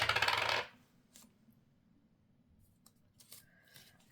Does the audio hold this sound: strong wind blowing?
no